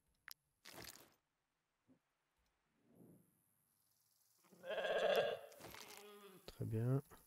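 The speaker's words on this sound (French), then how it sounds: "Ce mouton n'a plus que la peau sur les os." A sheep bleats in a medieval strategy game, a wavering close bleat rising after scattered clicks and crunching sounds, with a voice briefly present.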